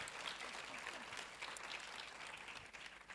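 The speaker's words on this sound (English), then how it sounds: "Let's clap for them again." Sustained applause from an audience clapping for a panel at a conversation event, steady and fairly dense throughout with no break.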